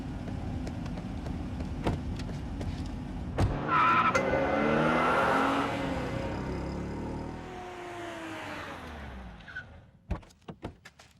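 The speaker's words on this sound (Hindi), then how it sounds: "मैं इस गाड़ी में जा रहा हूँ, तुम लोग आ जाना।" A car pulls away with a swelling engine note and tire noise that rises, holds and fades over several seconds, followed by a few sharp knocks at the end, moderately loud and with no talk.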